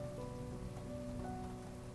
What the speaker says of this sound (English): Did you walk here in the rain?